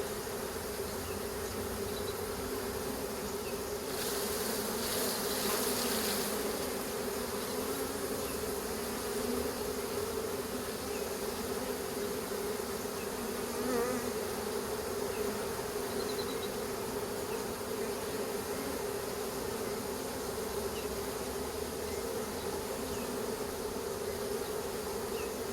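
Swarm of honeybees being moved into a new hive, a dense, steady buzzing drone filling the whole stretch at moderate distance, with a few louder passes of bees flying near and no talking.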